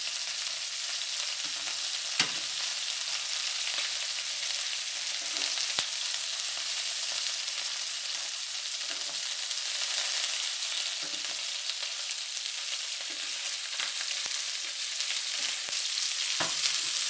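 Shrimp sizzle steadily in hot oil in a pan with a constant hiss, and a few faint clicks of turning stand out near the middle and end.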